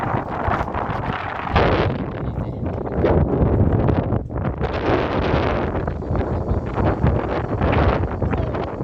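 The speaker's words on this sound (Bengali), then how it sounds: "কেন ঠান্ডা বাতাস না?" Strong wind gusting across the microphone on a high bridge above the sea, a loud continuous roar with surging buffets throughout.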